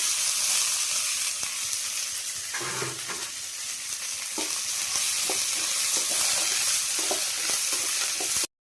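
Green chili, curry leaves and onion frying in a pan for a carrot and beans poriyal, a steady hiss of sizzling oil throughout, broken by occasional soft stirring scrapes, close and unvoiced, cutting off abruptly at the end.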